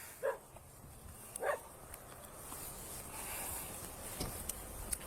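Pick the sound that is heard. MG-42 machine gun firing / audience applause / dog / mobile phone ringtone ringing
dog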